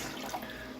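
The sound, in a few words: running water from tap with electric water heater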